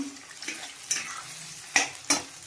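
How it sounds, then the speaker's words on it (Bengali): Potatoes and onions frying together in a pan, a quiet steady sizzle with a few louder scraping stirs of a utensil against the pan. "আলু ভাজা হয়ে গেছে এবার এর মধ্যে দিয়ে দেবো পেঁয়াজ"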